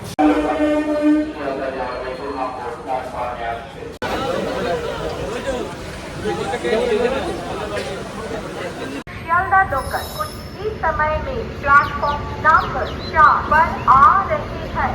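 A train at a busy railway station rumbles and rattles, with a horn sounding, while people talk and chatter nearby throughout.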